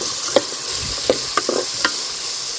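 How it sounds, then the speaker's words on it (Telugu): Green chillies frying in oil for village-style gongura pickle: a steady hiss of sizzling with several sharp scraping clinks of a stirring spoon against the pan, close and loud, no talk. "మిరపకాయలు వేసుకుందాము. ఇట్లా పచ్చళ్ళకి కారం కంటే పచ్చిమిరపకాయలు వేసుకుంటేనే బాగుంటుంది."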